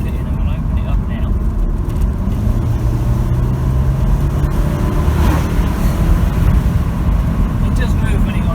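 Mercedes SLK car accelerating hard, a steady loud engine roar building with rising pitch throughout, heard from inside over constant road noise.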